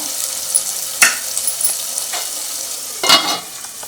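Ginger-garlic paste frying in oil under a lid for a korameenu fish curry, a bright continuous sizzle close by, with a couple of louder bursts from stirring or the lid, no talk.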